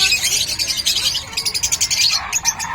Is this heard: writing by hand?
no